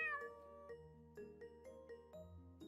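A cat meows repeatedly in an office cat room, several short tonal calls with rising and falling pitch in close succession, near and clear.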